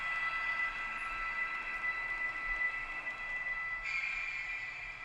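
A Märklin Vectron model electric locomotive picks up speed with a steady, close motor whine and a light rolling hum. The pitch holds fairly even and brightens slightly toward the end.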